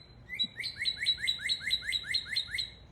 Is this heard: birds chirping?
yes